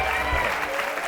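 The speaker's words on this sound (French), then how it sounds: "on vous applaudit" A television studio audience claps in a brief, dense burst of applause, loud and continuous, with a voice faintly underneath.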